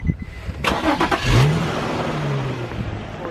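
A Nissan 240SX that needs general maintenance runs up close: a loud engine note swells in a short rev, then settles into a steady rising-and-holding drone that lasts to the end.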